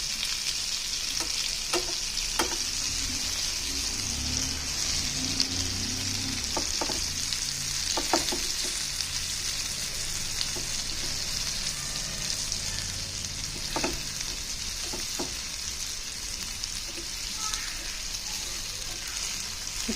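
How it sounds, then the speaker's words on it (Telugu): Bitter gourd pieces fry in oil in a pan with a steady, dense sizzle throughout, broken now and then by soft clicks and scrapes of stirring, and faint speech in the background. "ఇట్లా ఎర్ర అయ్యేంత వరకు వేయించాలి వీటిని."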